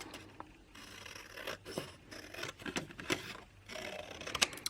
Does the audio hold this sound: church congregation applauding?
no